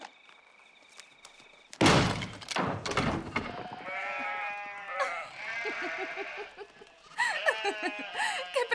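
Sheep bleat in a Western film scene, several wavering cries following a few heavy thuds, with a closer burst of bleats near the end.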